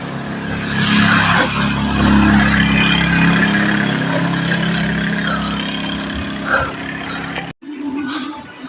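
Motorcycles pass on a mountain road at the Nueva Ecija–Aurora boundary, a loud sustained engine roar and whoosh that swells and fades, heard from close by during a bike ride, ending in a sudden cut.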